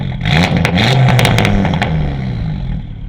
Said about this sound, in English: it also has a full, I think, catback titanium exhaust, or axleback titanium exhaust, and it sounds freaking wicked